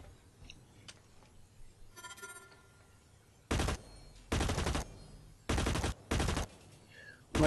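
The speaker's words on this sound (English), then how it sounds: "I'm just shooting pretend Kerbal boxes" Gunfire in the Blacklight Retribution video game tutorial as boxes are shot: four or five loud, dense bursts of automatic fire, each lasting around half a second, separated by short quiet gaps after a few faint clicks.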